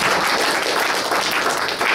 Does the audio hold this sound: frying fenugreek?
no